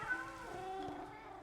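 Cats meowing in the Minecraft game, several drawn-out meows overlapping one another at a steady, moderate level with no talk.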